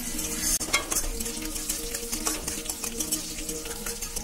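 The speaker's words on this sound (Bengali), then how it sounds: "কাঁচা লঙ্কা না ফ্যাট করে ফেটে উঠবে" Green chillies fry and crackle in hot oil, popping and spitting sharply over a steady sizzle with stirring scrapes, close and fairly loud throughout.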